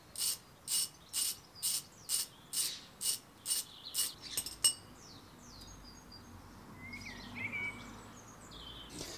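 Ratchet undoing a wheel-bearing bolt on an Audi A4: about nine rhythmic, evenly spaced clicking strokes, close and clear, then stopping, leaving faint background birdsong and insect chirps.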